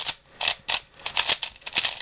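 Scratchy, clicky turning of an EnacFire 3x3 speedcube, a quick run of close, dry plastic clacks in uneven bursts with no talking.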